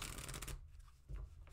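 A deck of playing cards is shuffled close up, a dense riffling burst followed by a short pause and another brief riffle.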